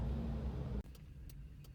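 A ZAZ Sens engine idles on gas with a low steady hum, then the note drops abruptly and settles into a quieter, lower rumble with a few faint ticks.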